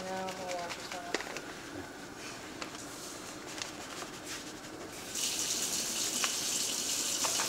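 A whisk is rinsed under running tap water at a kitchen sink; a steady gush of water plays under background kitchen noise and occasional clinks, growing louder and brighter near the end.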